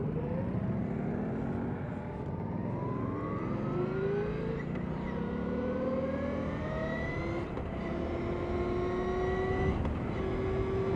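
A Victory Empulse TT electric motorcycle is ridden with a steady, faint whine that rises in pitch through repeated upward sweeps, heard under constant wind rush with no talk.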